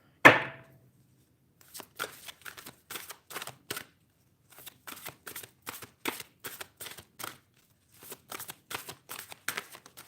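Cards being shuffled over and over, each riffle a quick rattling burst, repeated in a steady rhythm with short pauses between, close and fairly quiet.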